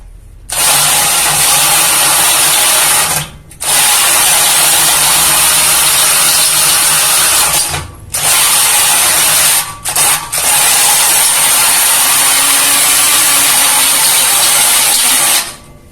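Kamolee 10mm brushless drill running in long loud bursts of high whirring motor noise, stopping briefly several times and restarting, close up with no talking.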